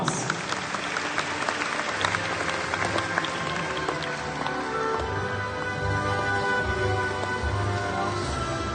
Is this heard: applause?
yes